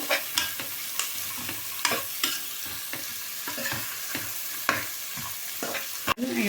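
Beans and potatoes frying together in a pan for a basmati vegetable biryani, a soft steady sizzle broken by repeated scraping stirs of a spoon, close by and unhurried.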